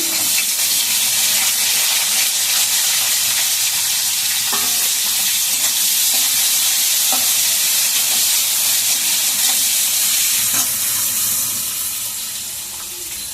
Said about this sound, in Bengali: ছোলা কাটা ভাজা ভাজা হয়ে গেছে, এবার আমি পেঁয়াজটা দিয়ে দিলাম।